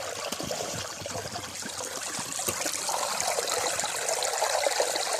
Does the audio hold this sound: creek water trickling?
yes